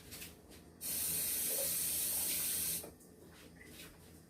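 Tap water rinsing something in a kitchen sink while preparing tacos: a steady hissing stream runs for about two seconds, faint room noise before and after.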